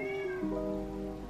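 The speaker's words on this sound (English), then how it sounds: "you guys heard that? That's my cat." A pet cat gives one drawn-out meow with a pitch shift partway through. It is heard alone, close and clear, with no talking.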